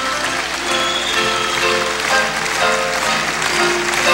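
A large crowd claps steadily and loudly at a 1987 rhythmic gymnastics competition, a dense continuous wash of applause with no breaks.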